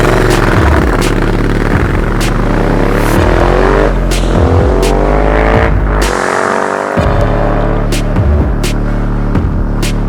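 A Yamaha Tracer 7 motorcycle runs at a steady, loud engine drone while riding, with continuous low throbbing and engine hum and no voices.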